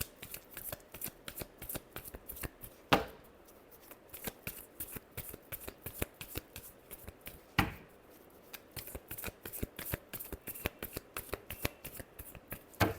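A deck of tarot cards is shuffled by hand up close, giving a steady run of crisp riffling flicks and slaps with two sharper snaps partway through and no talking.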